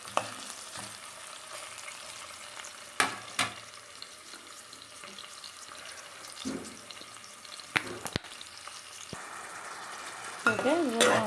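Ginger frying with browned onions in a pan for chicken curry: a low steady sizzle with scattered stirring knocks and clinks, a brief burst of louder sizzling near the end, no talking.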